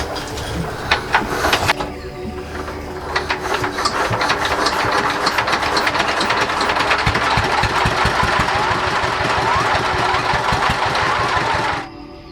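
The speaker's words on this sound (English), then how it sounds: "a diesel engine is used to assist the sandblasting process" A chugging diesel engine powering sandblasting at a glass factory runs steadily and loudly, with a rapid knocking rhythm, then cuts off near the end.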